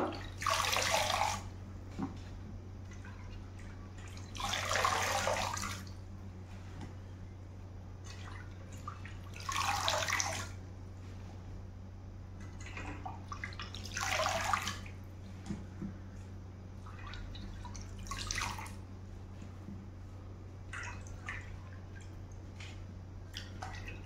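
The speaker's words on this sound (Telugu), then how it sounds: "కడిగి దీంట్లో వేసుకుందామండి, జల్లిబుట్టలో" Vegetables are washed in a strainer basket under running water, with about five separate bursts of splashing flow, each a few seconds long and separated by quieter pauses over a constant low hum.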